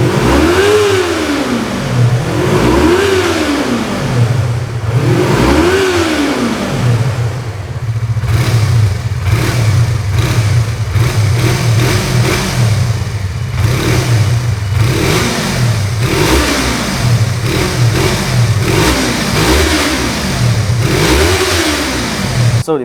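A Yamaha MT-25 motorcycle engine revs hard, climbing and dropping in three sweeping blips, then settling into a steady high idle with sharp throttle pulses, loud and close.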